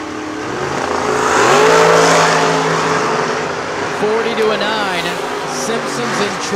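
Jason Hinderline's Camaro drag car screams up through the revs at a drag strip, swelling to a loud peak then holding a high, rising engine wail with a shifting pitch, while an announcer talks over it.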